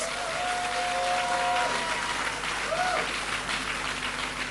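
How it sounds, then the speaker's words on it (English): Steady applause from an audience at a matriculation and onboarding ceremony. The clapping is dense and continuous at moderate volume, with a brief tonal whine rising over it. "Can we get a louder applause, please?"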